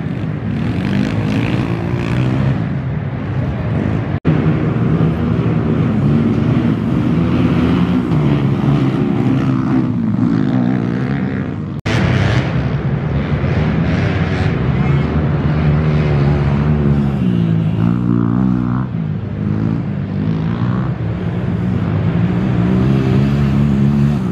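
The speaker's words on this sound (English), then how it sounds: "Trying to get the bike warmed up. It's cold just like the rest of us." A dirt bike engine warming up in cold weather at a Georgia GNCC off-road race, its steady loud drone rising and falling in revs for the whole stretch, close by, with faint voices underneath.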